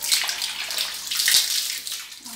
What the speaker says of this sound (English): let's open up this tap and just wash our